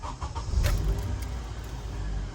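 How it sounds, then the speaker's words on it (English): A car engine starting and settling into a low rumbling idle, close and steady for a couple of seconds. "If I start the car, I'm gonna let it run for a little bit."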